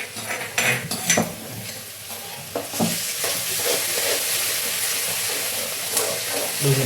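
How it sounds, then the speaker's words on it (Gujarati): Golden-brown onions sizzle steadily in a pan after ginger garlic paste is added, with a spoon scraping and clinking against the pot early on, then a continuous close frying hiss. "હવે આમાં હું નાખીશ આદુ લસણની પ્યુરી"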